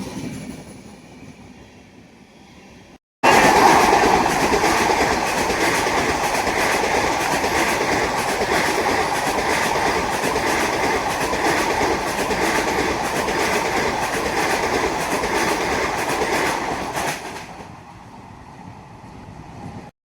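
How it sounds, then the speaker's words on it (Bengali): A local train pulls into a station, rising abruptly into a loud, steady rumble and rhythmic wheel clatter that holds for about fourteen seconds before fading back to quieter platform ambience. "এই ট্রেন ঢুকছে আমাদের।"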